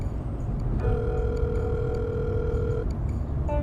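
A telephone rings with a steady electronic tone for about two seconds over a low ambient background, with no one picking up.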